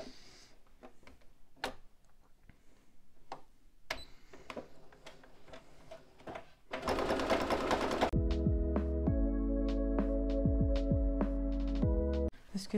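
Sewing machine topstitching a tote bag, heard after scattered handling clicks and taps, running close and loud in a fast, steady mechanical chatter for several seconds before stopping.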